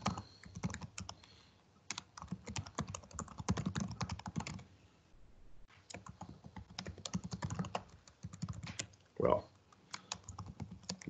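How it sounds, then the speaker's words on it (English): Password being typed on a computer keyboard: bursts of quick, close key clicks, a short pause midway, then more rapid tapping ending in a firmer keystroke, with no voices. "The most difficult task of any implementation is typing your password correctly."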